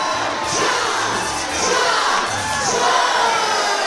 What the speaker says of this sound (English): Well, the crowd comes to their feet here in Port St.